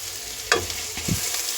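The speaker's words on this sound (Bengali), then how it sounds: "পেঁয়াজটা একটু ভেজে নেব লাল লাল করে।" Onions fry in a pan until browned while making begun bhorta, a steady close sizzle with a couple of short stirring scrapes and clinks, no voices.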